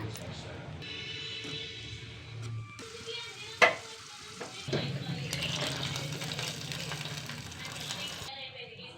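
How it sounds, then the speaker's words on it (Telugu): Dry fruits fry in ghee for semiya kheer, making a close sizzle broken by a sharp clatter as they go in, then a brighter, steady frying hiss with stirring sounds. "నెయ్యి పెట్టుకుంటున్నా. ఇప్పుడు డ్రై ఫ్రూట్స్ వేసేస్తున్నా."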